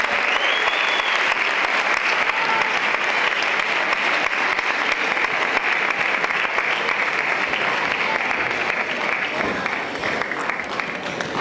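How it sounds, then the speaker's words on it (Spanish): Students and guests at a secondary-school film awards ceremony give sustained, loud applause, a thick, continuous wash of clapping that barely wavers for over ten seconds. "¡Fuerte aplauso!"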